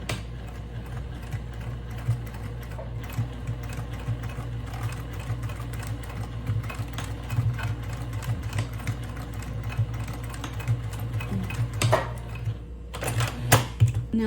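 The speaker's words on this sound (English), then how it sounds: "So let's go to the sewing machine. I'm going to start to sew 1 centimeters for the seam allowance." A sewing machine stitches the side seam of a tote bag with a 1 cm seam allowance, running as a steady close mechanical whir with a rapid needle rhythm. Short bursts of backstitching come near the end, and nobody speaks.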